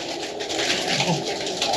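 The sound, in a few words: pigeons cooing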